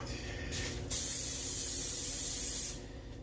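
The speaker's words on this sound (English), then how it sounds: "Get our bowl sprayed real well." Cooking spray hisses onto a mixing bowl, one short puff followed by a longer continuous close spray of about two seconds, then stops. No one speaks.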